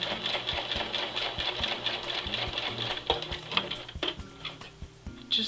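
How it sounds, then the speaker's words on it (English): Domestic sewing machine stitching a narrow rolled hem on a formal dress skirt with a rolled hem presser foot, a steady close whirring run with a rapid needle rhythm, easing and stopping intermittently near the end. "Here we go with that rolled hem presser foot."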